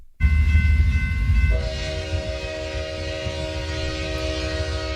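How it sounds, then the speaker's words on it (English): A freight train sounds its loud, sustained multi-tone horn, which shifts to a lower chord as the train passes, over a steady rumble of rolling wagons that continues after the horn fades. "Just a freight train coming your way."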